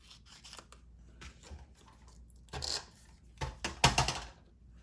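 Scissors cut a piece of paper in half in a handful of crisp close snips, faint at first, then louder and faster toward the end.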